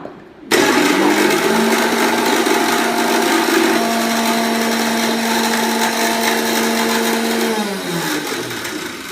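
A kitchen mixer grinder whirs at full speed as it grinds soaked lentils into a fine paste, starting abruptly, then holding a loud, steady motor whine before slowing slightly near the end.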